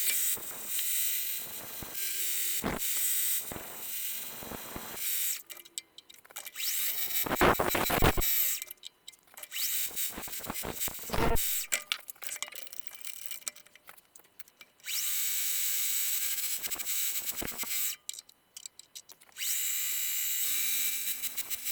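A lathe turns down the outside of a custom fountain pen body after internal boring, giving bursts of high, hissing cutting noise that start and stop over a mechanical whir, with quieter gaps between passes.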